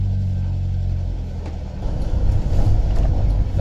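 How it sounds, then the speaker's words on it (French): A Peugeot 806 Procar replica touring car with rusty brakes, soft suspension and an engine that misfired at idle, droning low while driving, then pulling harder with a rougher, louder rumble in the second half. "Ah, le moteur relance bien"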